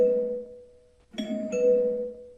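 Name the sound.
doorbell ringing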